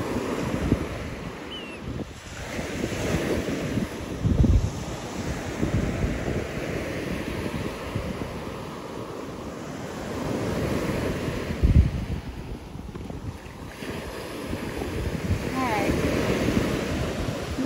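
Surf rolls steadily onto a Sanibel Island beach during red tide, a continuous wash of breaking waves mixed with heavy wind buffeting the microphone, with a few louder surges and no pause.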